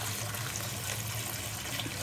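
Hot water runs from a faucet into a lavatory sink and down the drain, a steady rushing splash that stays even and close throughout, with no voices.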